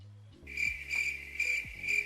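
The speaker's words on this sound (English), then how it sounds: "Crickets." A crickets chirping sound effect plays as a steady, bright pulsing trill over a low background hum, with no voices.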